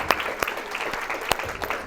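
An audience at a live hypnosis show gives a round of applause, steady close clapping with a few sharper louder claps over a short stretch.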